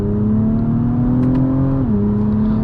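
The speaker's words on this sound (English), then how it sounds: "Our exhaust is very loud," A 2024 Acura TLX Type S exhaust droning at a steady, loud pitch from inside the car, then dropping sharply as a gear shift lands near the two-second mark.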